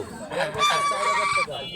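A rooster crows loudly and close by, a single long strained call, with other fowl clucking and honking in the background.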